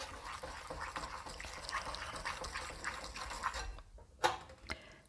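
Liquid is poured and stirred into a chocolate peanut butter cake mix, giving a continuous wet churning and sloshing that pauses briefly near the end before a few clinks and splashes.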